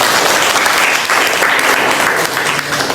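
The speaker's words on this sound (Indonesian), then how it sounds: "Beri tepuk tangan buat kelompok 1." A classroom group claps for the first presenting team, a loud, steady burst of close applause lasting the whole moment without speech.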